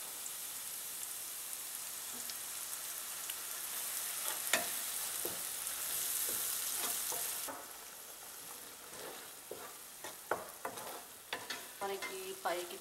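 Ground coconut, ginger, garlic and chilli masala fries with onions in a pan, a bright hissing sizzle broken by repeated spoon stirs and scrapes, close up, calming slightly midway.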